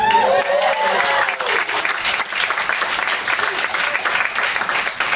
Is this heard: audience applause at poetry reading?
yes